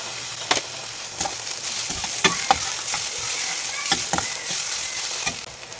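Sprouted green gram mixed with chilli powder, turmeric, masala and sambar powder is stirred in a hot pan, with soft sizzling under repeated scraping strokes of the spoon at an uneven rhythm, close and moderately quiet.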